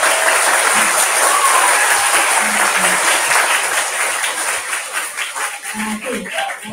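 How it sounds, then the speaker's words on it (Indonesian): Sustained audience applause at a retirement ceremony for a primary school teacher, dense and steady clapping throughout, thinning toward the end, with faint voices beneath. "Tepuk tangan untuk cikgu."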